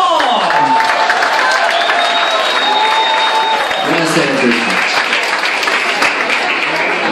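A crowd bursts into loud, sustained applause and cheering for a singer performing O sole mio, with a voice and sung tones rising above the clapping.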